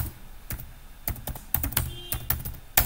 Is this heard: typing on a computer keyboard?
yes